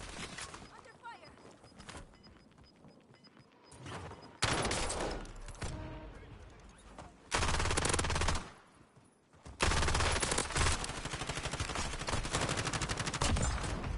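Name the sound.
gunfire in the Call of Duty Online video game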